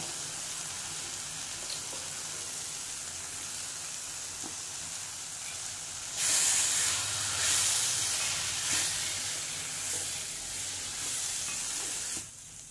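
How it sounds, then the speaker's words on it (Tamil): Taro leaf stalks sizzle and hiss steadily as they fry in a pan after a dusting of rice flour, the frying growing louder and brighter midway as they are stirred, with no talking. "இனி நல்லா கிளறி கொடுத்து ஃப்ரை பண்ண விடணும்"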